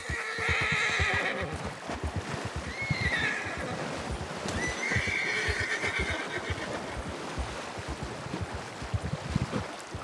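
A horse whinnies loudly several times over a steady, rapid clip-clop of hooves on the move, close by and continuing throughout.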